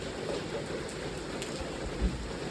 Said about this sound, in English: a lot of rain